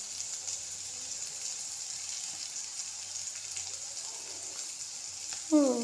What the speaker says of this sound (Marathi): 2 ते 3 मिनिटं फक्त दोडका भाजून घ्यायचा आहे आपल्याला